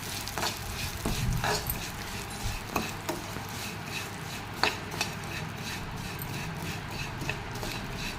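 Vermicelli fries in ghee for semiya kesari, giving a steady sizzle broken by scraping stirs and light clinks of a pan, with no talking.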